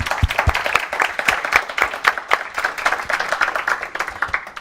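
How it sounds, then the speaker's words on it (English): An indoor audience at a tech industry talk applauds the speakers, a dense, sustained patter of many hands clapping at close range, steady from start to finish. "please give them a round of applause"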